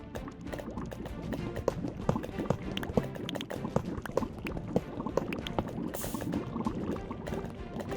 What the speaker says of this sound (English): I can hear lava nearby